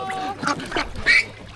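Ducks quack in a short burst of three or four loud, nasal calls close by at a fishing spot in Vietnam, with no talk over them.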